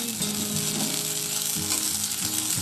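Broccoli frying in a pan for veg pasta, giving a loud, continuous sizzle with occasional scraping and stirring noises, close by and with no talking.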